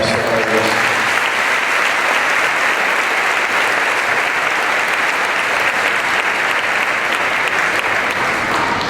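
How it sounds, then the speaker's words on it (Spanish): A church congregation at a charismatic Pentecost service gives a loud, sustained round of applause to God, many hands clapping in a thick unbroken wash that stays strong from start to finish. "Dale ese aplauso a Dios."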